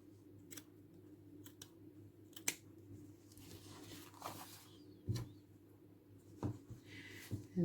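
Scissors snip repeatedly through fabric while trimming the seam allowance of a pocket bag, with soft, sharp, irregularly spaced close cuts over a quiet room background.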